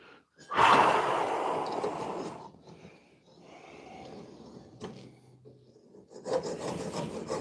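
A hand file rasps along a dagger blade in steady back-and-forth strokes, a loud burst at first, then softer scraping with pauses and uneven passes, close up with light breathing around it.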